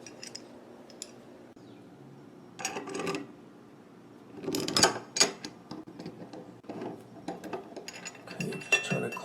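A seat wrench turns a valve seat back into a leaking bathroom sink faucet, giving a few short metallic clicks and scrapes in bursts with quiet gaps between them.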